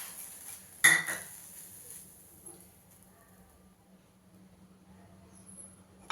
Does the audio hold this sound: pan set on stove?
yes